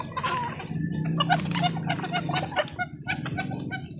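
Steady clucking and quacking from domestic ducks, including a laying female, nearby and moderately loud, with overlapping short calls and some background noise.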